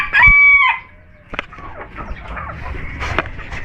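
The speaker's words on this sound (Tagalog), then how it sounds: "pakita ko lang yung bagong pisa natin ng mga manok" A rooster crows loudly up close, then hens and newly hatched chicks cluck and peep in scattered bursts around a farmyard coop.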